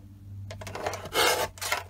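Paper card for a tall, skinny journal is trimmed in a few quick, close rasping strokes, one louder cutting swipe in the middle, with no voices.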